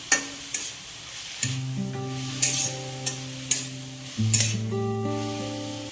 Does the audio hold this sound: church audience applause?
no